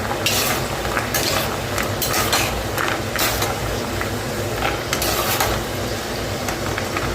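Vella seedai, sweet jaggery rice balls, fry in hot oil in a constant dense sizzle that runs the whole time, broken by sharp scraping and stirring clatters from a utensil.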